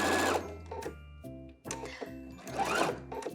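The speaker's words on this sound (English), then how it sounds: "So we're going to be using a straight stitch, and we have 1/2 inch seam allowances on the side seams of this dress, and don't forget to back stitch." Sewing machine straight-stitching the side seams of a summer wrap dress, running in short rhythmic bursts with brief stops, close and clear without talk.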